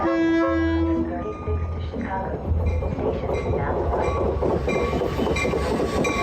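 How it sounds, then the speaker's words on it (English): A metro train rides into Chicago with a steady, loud rumble and rhythmic rail clatter. A brief tonal squeal or hum sounds near the start, and the noise runs continuously throughout. "Ted and I took the metro into the city"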